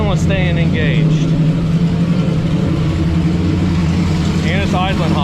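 A 40-year-old engine idling high after being revived, a steady loud rumbling drone throughout, with brief whistly squeals near the start and end.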